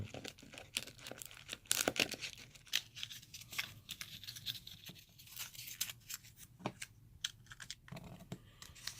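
Paper being torn open by hand during a camping-bus bedroom build, with irregular close crinkling and ripping bursts and some sharper tearing strokes, no talk.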